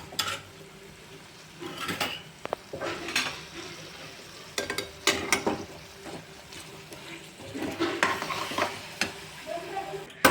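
A spoon stirs and scrapes through potatoes and thick gravy in a pan, with soft sizzling underneath and occasional clinks against the metal, close and steady.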